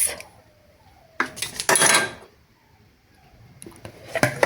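Utensil clanks and scrapes against a bowl while eggs and melted margarine are mixed for cinnamon roll dough, in short bursts with quiet pauses between, close and clear with no talking.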